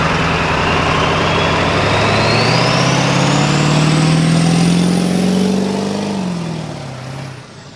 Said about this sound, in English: All you hear is turbo.